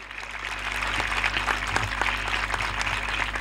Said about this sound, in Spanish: Pido un aplauso muy fuerte para todos los docentes